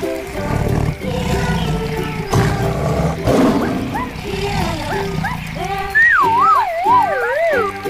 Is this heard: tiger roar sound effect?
yes